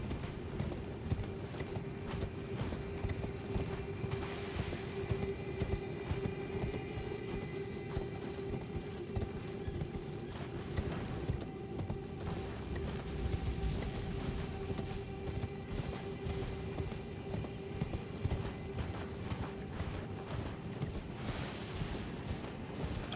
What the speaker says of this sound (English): Horse does indeed keep running forever, doesn't it?